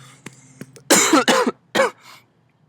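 A person coughs in a short fit, three harsh bursts close together after a few faint throat sounds, then quiet.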